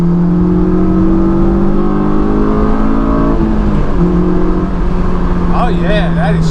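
Honda S2000 with an aFe Takeda intake pulling hard in third gear into VTEC, a loud, steady, close engine drone with rising harmonics and a brief shift-like dip midway, plus a short chirpy sound near the end.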